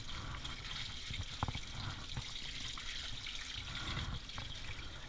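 Running water rinses a standard poodle puppy during a bath, a steady close splashing and trickling over fur with small irregular spatters throughout.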